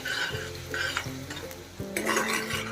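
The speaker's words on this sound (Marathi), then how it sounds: "त्याच्यात टाकायचे तेजपत्ता आणि बारीक चिरलेला कांदा कांदा आपल्याला चांगला लाल होईपर्यंत परतून घ्यायचा आहे" Bay leaf and finely chopped onion fry in hot oil in a kadhai, a steady close sizzle with a few stirring scrapes and clinks of the spoon against the pan.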